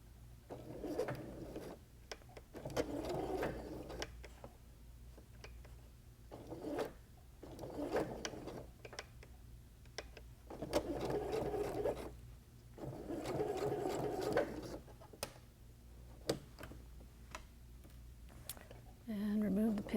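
A sewing machine stitches a lapped zipper into a garment, moving a little forward and then backstitching. It runs in repeated short bursts with brief pauses between runs, close and clear.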